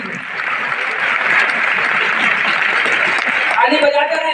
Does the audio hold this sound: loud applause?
yes